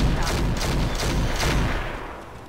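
Rotary autocannon firing in the Roguetech mech combat video game, a dense sustained burst of rapid booming shots with pulsing rhythm, loud and close, tapering slightly at the end with no talk over it.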